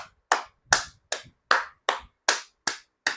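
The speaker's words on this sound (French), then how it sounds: "J'applaudis encore," One person claps in a slow, evenly spaced rhythm, eight sharp, close, dry claps separated by silence, with no talking over them.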